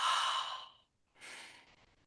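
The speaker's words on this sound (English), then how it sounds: "when you do that loud exhale, so we're doing the slow move with the loud exhale" A loud, drawn-out exhale during a slow breathing exercise, followed after a brief pause by a second, softer breath out, with no talking.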